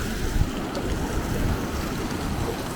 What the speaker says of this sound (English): It's almost like some sort of like stream waterfall they've got there.